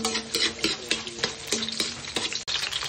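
Garlic sautéing in a pan at the start of cooking pancit, a close sizzle broken by quick, irregular scraping and stirring clicks, fairly loud and with no voices.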